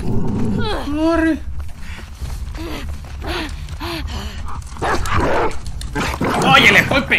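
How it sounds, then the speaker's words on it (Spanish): A dog barks repeatedly in The Last of Us Part II, a run of sharp close barks and yelps amid tense game sounds, with gasping and shouted voices throughout. "¡Estúpido perro!"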